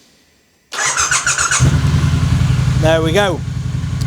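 A 2016 Triumph Bonneville T120 motorcycle, cold and loaded with luggage, fires up after near silence into a loud, steady close idle with a pulsing low rumble, while someone speaks briefly over it.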